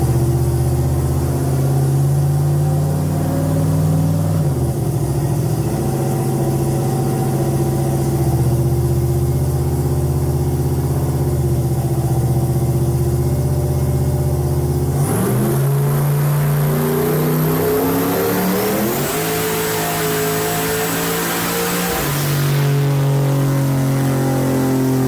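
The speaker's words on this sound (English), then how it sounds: "here's the pull, the one pull Bob makes, again, right at 1100 horsepower" A 1100-horsepower car on a dyno at 30 pounds of boost holds a loud, steady engine drone, then at about fifteen seconds rises sharply into a hard revving pull that climbs and falls away near the end, with no talking.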